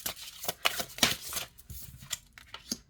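Oracle cards being overhand shuffled, a close, steady run of soft riffling slaps and papery flicks in irregular bursts, with no talking.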